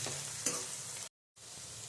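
Chopped curry leaves fry in hot oil in a pan, giving a steady close sizzle with a sharp crackle burst early on, a brief dropout of silence, then the frying hiss resumes.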